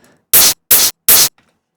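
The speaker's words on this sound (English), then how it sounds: "I took a hi-hat because I wanted a transient. And I just put a lot of distortion." A hi-hat sample pushed through heavy distortion into a harsh, hissing burst of noise for a rawstyle kick, played three times in an even rhythm with sharp starts, near silence in the gaps.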